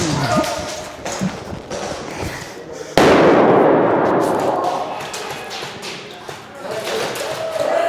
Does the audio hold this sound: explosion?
yes